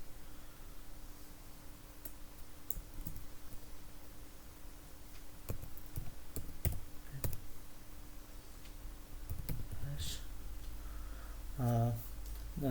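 Scattered, quiet computer keyboard clicks come while shell script code is being written, sparse and close over a soft background hiss, with a brief voice sound near the end.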